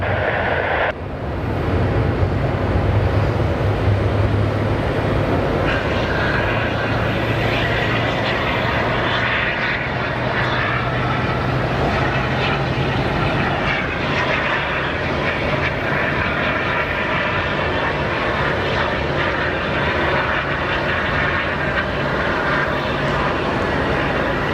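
A Boeing 787 Dreamliner landing on runway 26 at Phoenix Sky Harbor Airport: loud, continuous jet engine roar that swells in within the first second and holds steady throughout, heard from nearby and alone.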